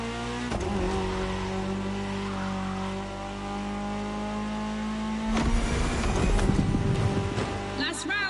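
Rally car engines on a video game starting grid, among them a Ford Puma Hybrid Rally 1: a loud, sustained engine drone that roughens and revs harder toward the end, with a voice talking over it.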